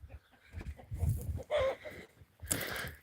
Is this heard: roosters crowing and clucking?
yes